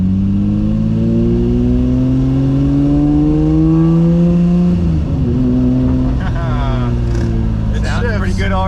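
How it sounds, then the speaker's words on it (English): A Lamborghini Murcielago with its muffler and secondary catalytic converter deleted revs loudly up close. The engine note climbs, falls back, then barks in sharper blips toward the end. "It's obviously a lot louder than our coupe because it has an exhaust, muffler delete, and secondary cat delete."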